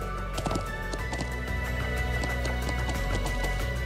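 Horse hooves pound at a gallop in The Legend of Heroes: Trails of Cold Steel II, a fast, even beat heard near and continuous under a thick layer of in-game music.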